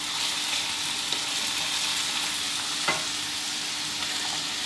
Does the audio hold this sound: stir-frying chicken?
yes